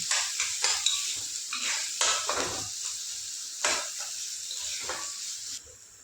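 Chopped onion sizzles in hot oil in a pan while a spoon stirs and scrapes in repeated strokes, a bright steady hiss close up that cuts off near the end, with no talking.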